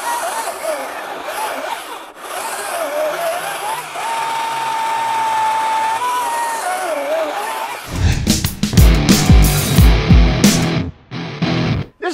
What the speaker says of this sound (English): RYOBI's releasing their largest chainsaw yet, a 20-inch powered by their 40-volt batteries.